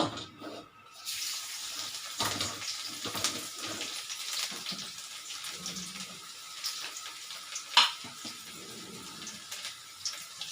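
Chopped garlic hits hot oil in a pan while cooking chili chicken, giving a steady hissing sizzle throughout with a few brief spatters.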